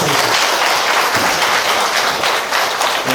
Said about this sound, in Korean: 여러분의 큰 박수 부탁드립니다